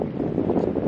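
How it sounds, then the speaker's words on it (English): Strong wind by Lake Erie buffets the microphone in a loud, low, continuous rumble with uneven gusty pulses for under a second. "Really windy, but it's better than snow, I guess."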